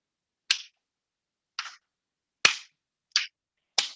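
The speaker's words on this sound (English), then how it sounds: "Let's get the energy going by clapping." An audience at a taiko drumming session claps in five sharp, separate strikes with silent gaps between them, crisp and close.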